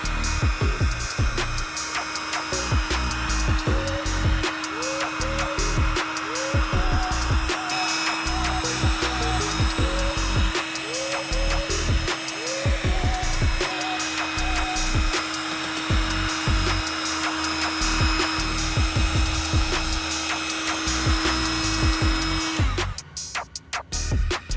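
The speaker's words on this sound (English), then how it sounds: "I then use a heat gun to dry it completely, preparing for the final restoration step." A heat gun blows a steady, loud whooshing stream of hot air to dry a sanded car headlight lens, with a constant hum held for over twenty seconds before it cuts off near the end.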